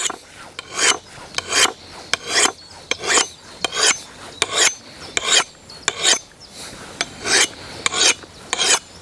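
Rhythmic rasping of a file drawn across the edge of a cheap axe blade, about a dozen steady strokes alone and close, reshaping a convex grind toward a flatter one.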